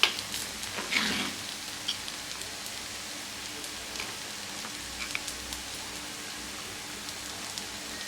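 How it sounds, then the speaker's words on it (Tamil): Eggplant fries slowly in a covered pan, giving a faint, steady crackling hiss like light rain. A few sharper pops come near the start. "இது ஒரு பக்கம் மெதுவாக ஃப்ரை ஆகிட்டு இருக்குதுங்க"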